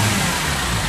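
Steady, loud engine drone from a turbocharged car under revving, close and continuous without pauses, on a car recently fixed for a P0299 low turbo boost fault.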